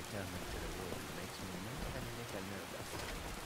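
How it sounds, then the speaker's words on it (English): Steady rain falls in Skyrim as a constant hiss of drops over a soft wash, with a voice speaking intermittently beneath it. "This rain stinks, by the way."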